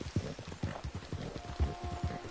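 Hoofbeats of an American Paint horse in Red Dead Redemption 2, a steady clip-clop of roughly five close, distinct strikes in a walking rhythm over a faint ambient background.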